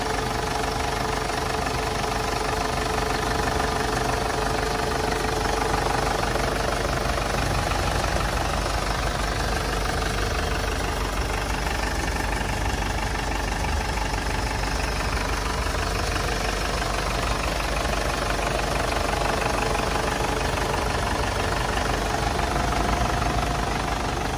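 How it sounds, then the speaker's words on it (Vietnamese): A 2014 Ford Everest diesel with a manual gearbox idles steadily, its dense, even engine rumble running unbroken and close throughout with no speech over it. "và đây là cái tiếng động cơ đang hoạt động đây. Máy nổ rất là êm, không có rung lắc gì."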